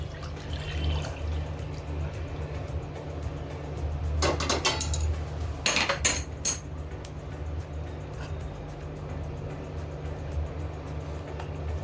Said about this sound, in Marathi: आता आपल्याला जे आपण हे गरम दूध केरून ठेवलेलं ते आता ह्याच्यामध्ये घालायचं आहे